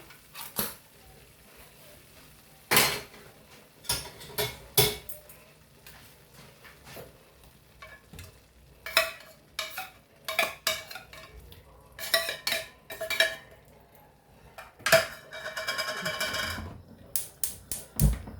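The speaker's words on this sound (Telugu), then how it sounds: "ఇందులో ఫిష్ వేసుకొని బాగా కలుపుకొని" Clattering of a spoon against a pan as tuna fish pieces are stirred into a cooked oil-based masala for a Kerala-style dry curry, giving irregular scraping knocks and clinks in close, separate bursts with quiet gaps between.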